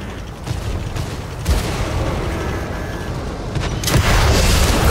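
Tank cannon fire in World of Tanks Modern Armor, with a Soviet T-72 and a Leopard 2 AV in battle: heavy booming shots and rumbling blasts over constant loud battle noise, a big report near the start and another swelling near the end.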